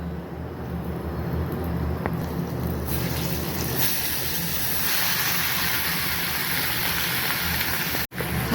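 Boiled chana dal poured into a hot tempering of cumin, dried red chillies and bay leaves, giving a continuous rushing, watery sizzle that swells after a few seconds and holds steady.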